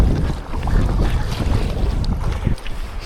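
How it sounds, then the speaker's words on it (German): Wind gusting hard over the sea off an island coast, with rough waves surging and rumbling close by, a continuous loud roar with no voices. "Gute Wellen."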